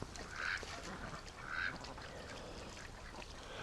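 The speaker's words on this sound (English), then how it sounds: "They're just silly ducks." Rouen and Pekin ducks quack in two short, moderately distant bursts over steady background noise, with no talking.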